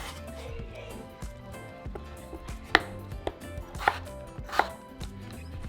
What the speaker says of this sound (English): now I'm just going to cut my potatoes into bite sizes as well